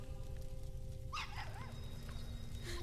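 A small dog named Groucho yips and whimpers briefly in the Blues and Bullets game, a few short high-pitched cries over a steady low hum, fairly quiet and alone without talk.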